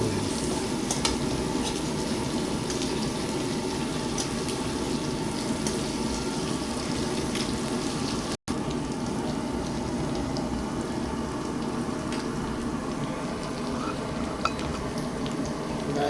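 Garlic and onion fry in a pan with a steady, dense sizzle that holds throughout, briefly broken by a short gap midway, with no talking.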